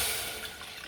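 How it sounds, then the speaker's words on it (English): A full cup of water poured into a ragi mixture, a steady close splashing gush heard alone for a brief moment. "I'm going to add 1 full cup of water into this"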